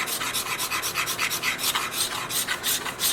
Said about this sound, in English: all I'm doing is a final scrape with a nice sharp scraper card